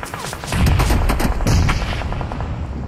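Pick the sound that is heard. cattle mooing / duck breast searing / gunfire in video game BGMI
gunfire in video game BGMI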